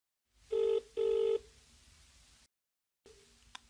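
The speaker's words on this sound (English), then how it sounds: "He is phoning her for directions." Touch-tone keypad beeps as a telephone call is placed: two loud, clear bursts of dialing tones close up, then a quieter ringing line and a brief ring after a short pause.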